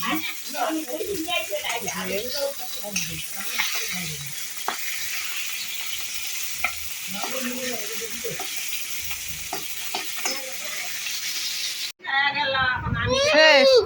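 Fish fries in a pan in a village family kitchen, a continuous sizzle running under nearby voices and children's chatter, ending with a louder burst of close talk.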